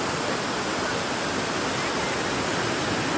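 Water pours down the Courtallam waterfalls in a steady, loud, close roar of broadband rushing with no pauses.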